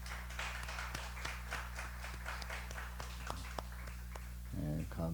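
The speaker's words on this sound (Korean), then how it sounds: "우리 청년부를 다시 한번 박수로 격려합니다." A church congregation claps for its youth group after a Friday late-night prayer service, a steady scatter of hand claps lasting several seconds at moderate distance over a low hum, fading as a voice begins at the end.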